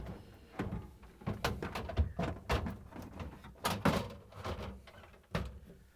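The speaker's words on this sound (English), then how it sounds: "To put the drawers in, we're going to put the right one in first." Refrigerator drawers for an LG/Kenmore fridge being fitted and slid into place along their rail guides, giving a string of close, sharp plastic knocks and sliding clunks spread unevenly over several seconds.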